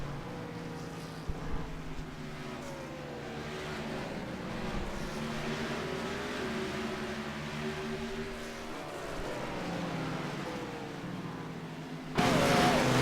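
A high-revving engine drones continuously, pitch rising and dropping in repeated sweeps as gears change, then a sudden louder burst at the end.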